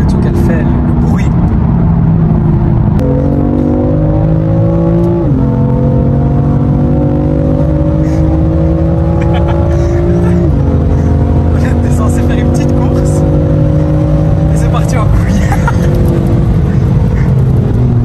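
BMW M3 F80 engine pulling hard through the gears, its loud droning note climbing with each shift over road and wind noise inside the cabin, with people talking throughout.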